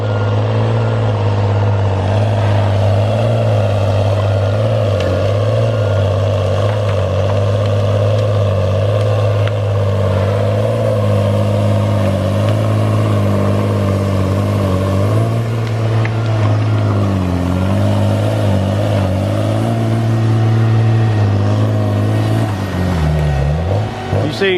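Tigercat 635D skidder pulling logs, its heavy diesel engine droning loud and close throughout, steady with some pitch shifts as it works and a strain near the end, with faint talk in places.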